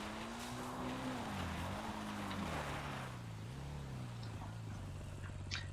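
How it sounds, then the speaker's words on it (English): A motorbike engine in GTA Online during Cayo Perico heist scouting on the island, a low droning hum whose pitch rises and dips as the rider throttles, heard with wind rush and faint water noise. "the bike is loud and they can hear noise"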